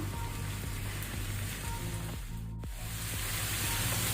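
Turmeric frying with mutton liver in a hot pan, a steady dense sizzle that holds loud and even throughout, with no voices.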